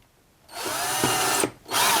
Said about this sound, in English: can feel the drill kind of binding up here